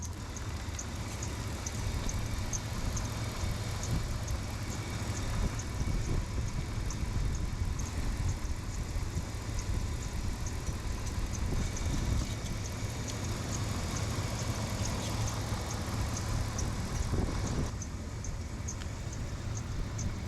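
A hot Chevrolet Suburban engine idling after about ten minutes of running, a steady, faint low rumble with a constant hum and no talking.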